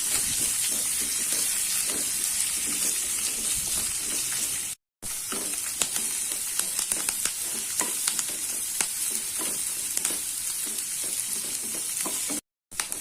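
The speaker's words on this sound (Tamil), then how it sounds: "கொஞ்சமாக கருவேப்பிலை போடுறேன், இதையும் போட்டு நல்லா வதக்கிக்கலாம்." Onions and curry leaves sauté in a pan for Chettinad-style kara chutney, a steady broadband sizzle with scattered stirring scrapes running throughout, broken by two brief silent gaps.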